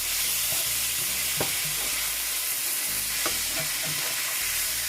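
Potatoes fry loudly in a skillet with onion, garlic, thyme and pimento, a dense, constant sizzle punctuated by a few sharp scrapes as a spoon stirs them.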